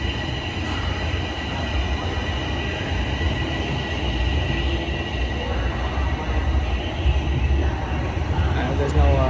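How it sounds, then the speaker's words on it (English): A TTC subway train creeps slowly through Highway 407 station, its rolling rumble and motor whine steady and fairly close, with a voice talking over the noise. "And the train's moving very slow here."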